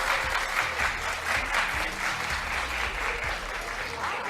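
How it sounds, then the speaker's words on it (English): A TV studio audience on a talk show breaks into sustained applause, a dense, steady wash of many hands clapping at close range that holds evenly for several seconds with no talk over it. "Clap if you're participating in Valentine's Day."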